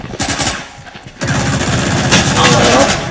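Rapid gunfire from the Valorant video game, a dense rattling burst that runs almost the whole time with a brief gap, while someone talks over it.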